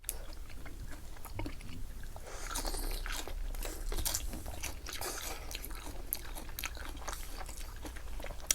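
Raw oysters and large scallops with a spicy dipping sauce are chewed close up, with wet, squishy bites and crunchy chewing in a steady rhythm and no talking.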